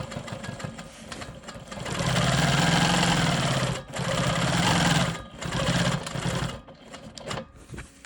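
A sewing machine stitches smoky swirl quilting on a narrow rectangle of a rolling stone quilt block, running in several loud bursts with short pauses, the last stretch tapering off.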